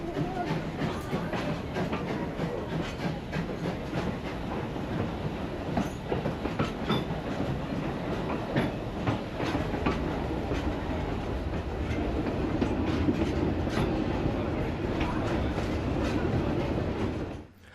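A Zig Zag Railway train on a switchback line runs through a tunnel, its steady rumbling wheels and clickety-clack filling the space continuously and loudly, with no voices.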